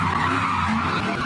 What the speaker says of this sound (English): several cars drifted, did donuts, and lit fireworks in the middle of intersections